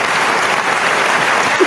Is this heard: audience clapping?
yes